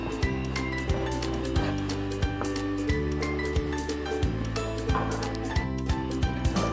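A mixer grinder grinds betel leaves into a fine paste, a loud continuous mechanical whir broken by regular clanking pulses from the jar.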